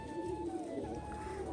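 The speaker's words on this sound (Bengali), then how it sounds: "সেগুলো খাঁচার ভিতর দিয়েই ডাকাডাকি করছে" Pet pigeons kept inside a cage coo softly and steadily in a low, continuous murmur, heard close by with faint background noise and no talk.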